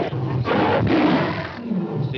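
A lion's loud, close roar fills the whole span with rough, growling swells, the kind of roar given when the big cat is angry.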